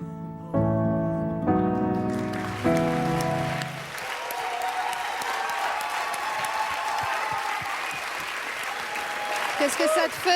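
Loud sustained applause from a studio audience for a contestant on stage at a Loft Story 5 gala, rising right after a short musical sting and continuing as a dense clatter, with voices mixed in.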